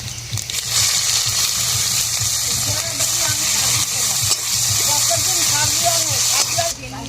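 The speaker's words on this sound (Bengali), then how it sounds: "কড়ার মধ্যে তেল দিয়ে দেবো, ফোড়ন করবো" Spices tempered in hot oil in a wok for a Bengali fish curry, a steady loud sizzle and hiss running throughout, with faint stirring scrapes over the top.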